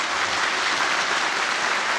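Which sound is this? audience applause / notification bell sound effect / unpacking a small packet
audience applause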